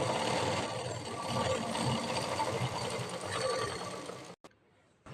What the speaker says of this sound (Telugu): ఇలా రిటర్న్ చేసుకొని మరొక కుట్టు వేసుకోవాలి.